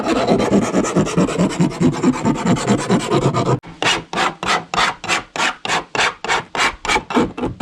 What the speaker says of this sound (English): just filing these edges down